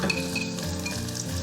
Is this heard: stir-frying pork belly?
yes